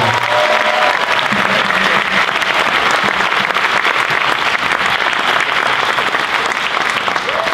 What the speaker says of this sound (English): Can we give them one last round of applause?